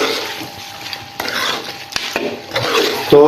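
Red chili, salt, turmeric and coriander powder are stirred in a pot, with a spoon scraping and knocking against the metal over a low sizzle, close and fairly loud.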